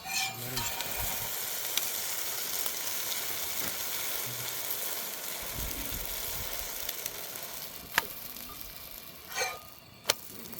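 A Pattukkottai-style egg omelette frying in oil in a pan gives a steady, close sizzle, broken now and then by a few clinks and scrapes.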